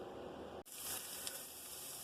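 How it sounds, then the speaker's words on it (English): Pork for carnitas sizzles in a hot pan, a sudden burst of crackling fat after a brief dip, then steady close-up hissing that continues. "The carnitification has begun. Hear that sizzle?"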